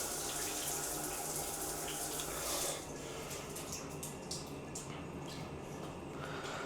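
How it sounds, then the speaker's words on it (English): Hotel shower water running with the tap turned to full cold for higher pressure, a broadband steady rush that is loud for the first few seconds, then continues slightly softer with scattered drips and splashes, no talking. "Switch it over to full cold, and then the pressure is a little bit higher, as you can see."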